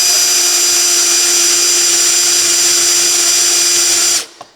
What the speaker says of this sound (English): I don't feel safe drilling like this.